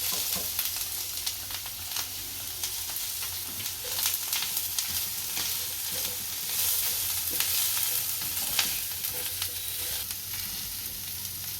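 Onions sizzling and frying steadily in a pan while a crispy snack is made from leftover rotli, a continuous close crackle with occasional louder pops and no talking.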